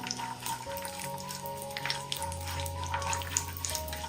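Chopped almonds and cashews fry in a small amount of fat in a pan, a soft continuous sizzle with faint crackles under a low steady hum.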